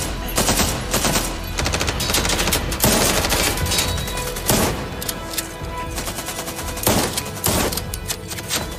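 Automatic rifle fire in a thriller movie, dense rapid bursts of shots that are loud and close and repeat almost without pause across the whole stretch.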